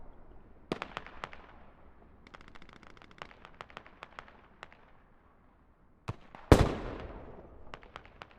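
Mortar and gunfire in a 50-versus-50 war video game battle at Goose Bay: a scatter of sharp distant reports and rattling bursts, then one loud close blast with a long decaying rumble, followed by more scattered shots.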